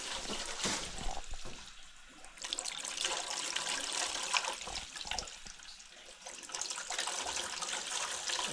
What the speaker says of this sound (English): Every time there's a rush of water, there's tons of air in front of it and behind it.